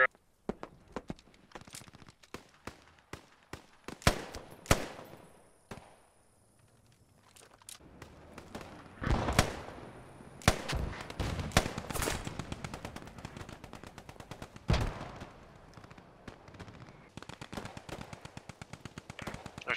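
Gunfire in the World War II shooter Post Scriptum: scattered single shots and short automatic bursts, some near and sharp, others more distant, with rapid fire clustering near the end and voices talking between shots.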